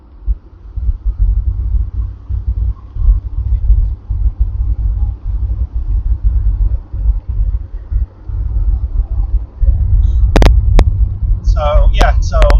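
Triumph Stag V8 car driving at around 60 mph, a steady loud low engine rumble with road and wind noise throughout, and a few sharp bursts near the end.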